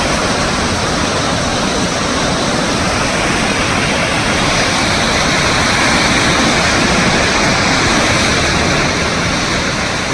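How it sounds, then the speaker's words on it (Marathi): A steady, loud roar of a waterfall in Glacier National Park, Montana, fills the whole stretch, constant and broadband with no pauses. "सुंदर धबधबा"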